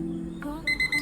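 A kitchen timer sounds while ramen noodles cook, giving a short run of bright, close electronic beeps in a quick repeating rhythm.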